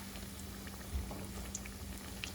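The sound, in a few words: salmon croquettes frying in oil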